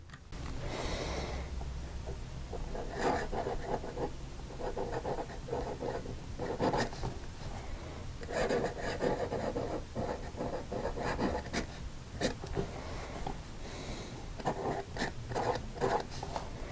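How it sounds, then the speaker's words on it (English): A Conway Stewart 58 fountain pen, posted, scratches steadily across paper in close, quiet strokes with short pauses between words, no voices present. "I'm going to write with this pen posted."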